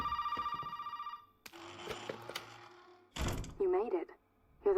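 A telephone rings in the horror game Resident Evil 7, a steady electronic ring up front, followed by clunks, thuds and game effects while commentators talk over the action.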